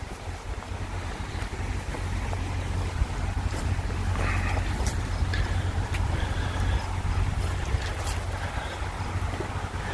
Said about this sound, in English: I'm right next to the interstate here, I-35. So of course you hear the traffic as always